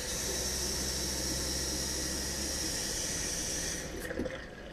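Water runs steadily from a camper sink faucet in a smooth, close hiss, then cuts off near the end, leaving a few faint clunks.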